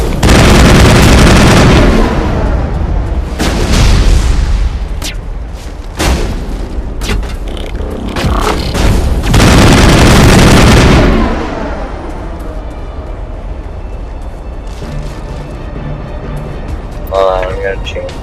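Enemy gunfire and blasts in a Mass Effect firefight, with loud, dense bursts of shooting and booms that come and go, and someone talking over the battle.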